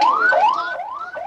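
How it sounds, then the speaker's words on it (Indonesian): An ambulance siren arriving at a fire scene wails loudly and close. Its tone sweeps up and down in quick repeated cycles with no voices over it. "Baik, Sisil, ada 2 ambulans yang datang ke lokasi."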